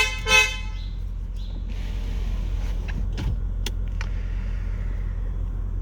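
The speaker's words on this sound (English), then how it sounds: "I'm gonna go ahead and show you guys how the horn sounds." A 2019 Mercedes-Benz S560 Cabriolet sounds one short, loud honk of its horn near the start, followed by a steady low background hum.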